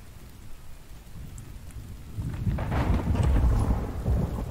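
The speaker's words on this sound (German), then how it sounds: "So, es gewittert." Thunderstorm in the video game The Infected: a quiet start gives way after two seconds to a building, broad rumble of thunder with steady rain, growing louder toward the end.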